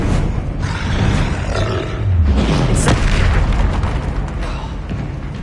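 A Confringo blasting spell bursting in Hogwarts Legacy on PS5, a loud rumbling boom with roaring, crackling debris that swells and lingers for several seconds, close and heavy.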